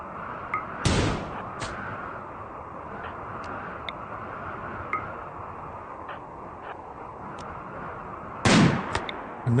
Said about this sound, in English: Then Matt lines up a miracle shot with his revolver and they fall dead.